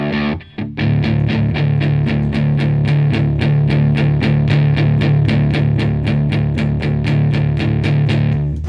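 An electric guitar plays through a Musiclily ODDT-01 distortion pedal, loud and close with a steady run of evenly spaced, heavily distorted chugging strums over a sustained low drone, after a brief pause near the start.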